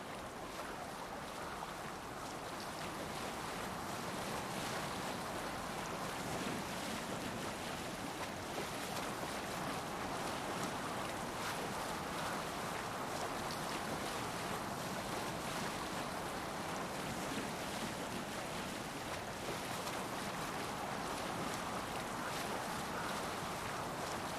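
A Viking longship cuts across open sea in Assassin's Creed Valhalla, with a steady, faint wash of waves and wind rushing continuously and without pause.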